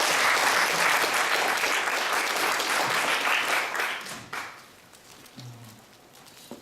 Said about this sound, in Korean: 이분은 미리 박수를 해주셔야 돼요.